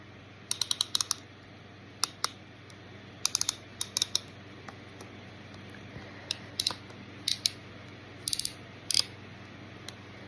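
Fisher Price dinosaur toy clicking, with sparse clusters of small, crisp plastic clicks scattered irregularly over faint background hum, close and alone.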